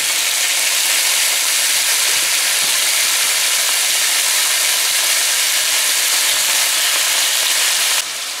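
Bora and potatoes fry in a pan with tomatoes, giving a loud, continuous close sizzle with faint stirring clicks, until the hiss drops away abruptly near the end.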